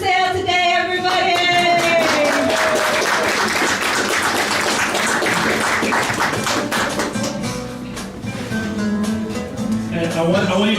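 Audience at a local art exhibit in Grand Rapids, Michigan clapping for local artists, a steady wash of applause running throughout beneath tonal music and voices.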